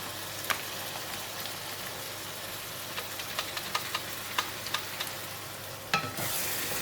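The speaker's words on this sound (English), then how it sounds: "Stir in the mixture and continue to fry until it becomes fragrant." A spice mixture fries with softened onions and curry leaves in a pan for ayam masak merah, giving a faint continuous sizzle with scattered light taps and scrapes of stirring, ending in a louder clatter.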